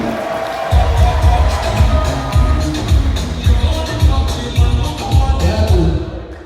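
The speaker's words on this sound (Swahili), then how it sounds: "Jamani, tupigeni makofi, mmevaa vizuri." An audience at a school director's speech claps and cheers, loud, dense applause with a rhythmic pulse of clapping bursts that carries on throughout.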